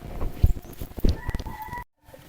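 A rooster crows nearby in a short, ragged call, with some clucking and rustling around it before the sound cuts off abruptly.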